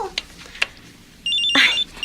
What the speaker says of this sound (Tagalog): nag-ring po ang cellphone nyo.